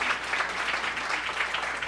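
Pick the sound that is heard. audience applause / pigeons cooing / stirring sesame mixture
audience applause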